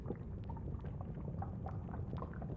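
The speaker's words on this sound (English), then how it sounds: "bubbling sound started." Lava bubbling underground as a sound effect in a children's story: a low, steady rumbling gurgle with soft popping bubbles, fairly quiet and without speech.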